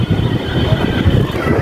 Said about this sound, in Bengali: আকাশ গুরুম গুরুম ডাকতেছে।